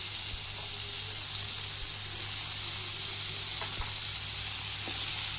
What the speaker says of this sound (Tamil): அந்த எண்ணெயிலே பரட்டுங்க அந்த சுண்டைக்காவை.